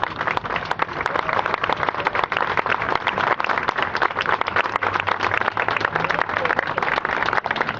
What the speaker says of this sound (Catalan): també demano per ell un aplaudiment per la feina que està fent al Parlament